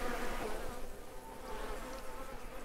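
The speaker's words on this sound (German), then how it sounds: "Bienen produzieren Honig und sind für deinen nahegelegenen Garten von großem Nutzen." Bees buzz in the video game Lumberjack's Dynasty, a steady close hum that wavers a little in loudness and carries on throughout with no speech over it.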